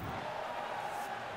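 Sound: boxing arena crowd cheering

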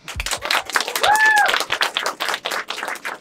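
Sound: audience applause at stand-up show

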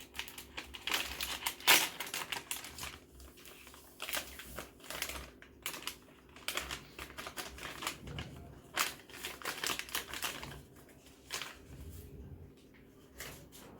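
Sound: opening a Dr. Oetker lemon cake mix packet

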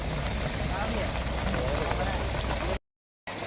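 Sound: heavy rain pouring down

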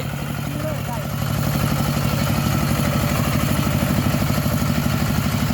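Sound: walking tractor engine running

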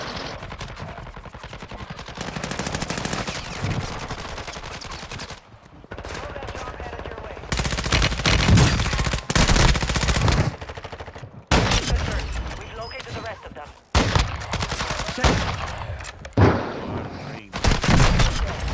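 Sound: sniper rifle gunfire in a video game

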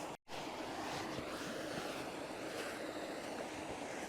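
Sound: waterfall roaring by the river bank

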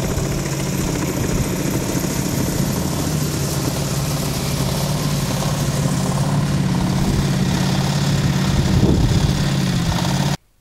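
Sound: firefighting helicopter over forest fire

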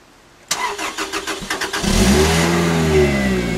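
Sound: Lotus Exige S engine starting after a cold rainy night

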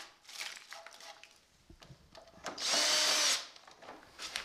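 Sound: drilling through wood beam

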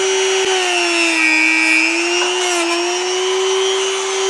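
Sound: power sanding car interior component with 120 grit abrasive

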